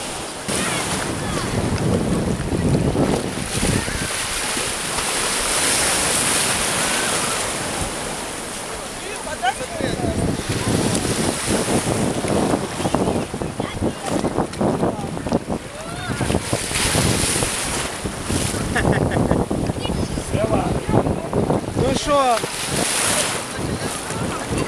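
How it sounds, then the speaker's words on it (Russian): Sea waves wash in at Vityazevo beach on the Black Sea, a loud rolling surf with gusts of wind buffeting the microphone, swelling and easing over time while people talk and call out nearby. "Сегодня волны поменьше."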